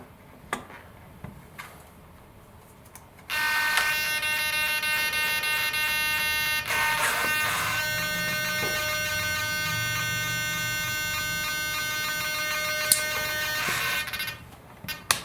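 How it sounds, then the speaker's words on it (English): An RC model servo on a Pike Paradigm 5m GPS sport glider center panel drives toward full down travel, giving a steady high-pitched electric whine that starts abruptly and holds for about ten seconds before cutting off. "I'm going to go to full down travel and see where that ends up, and then I'm going to go to the other servo and do the same thing."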